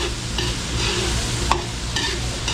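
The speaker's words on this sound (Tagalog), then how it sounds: "Sabay ko na sa gisa ng ating bawang sibuyas." Garlic and onion sauté in a hot pan alongside beef, giving a loud, steady sizzle broken by scraping stirs of a utensil. It sounds close and continuous, with no talking.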